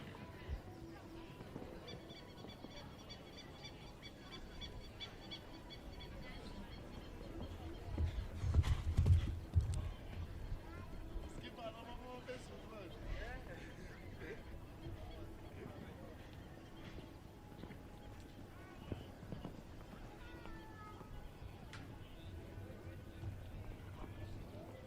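Hooves of an 11-year-old gelding clip-clop on the ground at a show jumping competition, with a louder burst of hoofbeats near the middle, faint against an announcer speaking over the arena.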